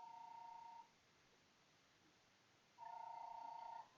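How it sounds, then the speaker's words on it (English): A telephone rings in the background in two faint electronic bursts, each about a second long with a pause between, alone under low room hiss. "I have a phone ringing in the background"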